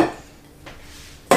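Chopped garlic tossed into a bowl with onions in a kitchen, giving a sharp clatter at the start, a faint clink midway and another crisp knock of the bowl at the end, with no talking.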